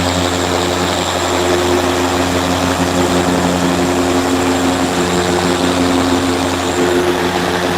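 A Halfords brushed machine polisher runs at top speed 6, giving off a continuous, close, whirring motor whine with no breaks.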